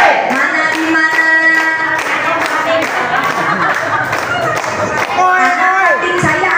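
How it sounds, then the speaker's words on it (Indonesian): A crowd claps steadily amid lively music and voices, the clapping blending into a busy, energetic backdrop. "Tepuk tangan suaranya lebih keras."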